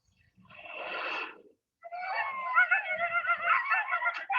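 Sled dogs from a team of eleven howl and whine in short rising and falling calls, a brief cry, a pause, then a longer wavering run of yelps, moderately close in quiet surroundings.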